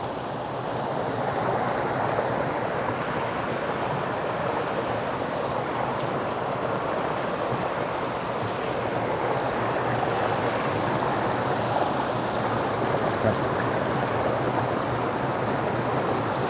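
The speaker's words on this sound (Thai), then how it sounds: "เป็นน้ำตกที่สวยงามมาก เป็นต้นน้ำนะครับ" A forest waterfall at the source of a river pours in a steady, dense rush of falling water that stays constant throughout, with no voices.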